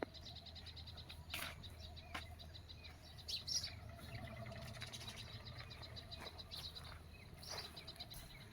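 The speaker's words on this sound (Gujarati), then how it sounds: "ચકલીઓ પણ જો આવી ગયું છે" Small birds, sparrows gathering at a farmhouse to peck at scraps of flatbread, chirp in scattered short bursts over a steady low outdoor background, fairly distant and faint.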